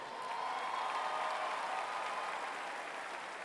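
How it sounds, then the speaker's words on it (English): A commencement audience at a North Carolina A&T State University spring graduation claps together in a steady, dense wave of applause that holds evenly throughout. "Let's please give all of them a second round of applause"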